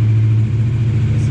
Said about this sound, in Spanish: a la primera prendió la motocicleta